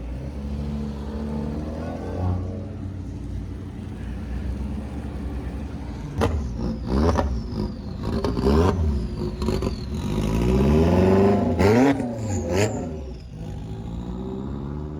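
Lamborghini Huracan driving out of a car show with loud revs, several sharp rising and falling engine sweeps over a constant background rumble, while people talk in the background.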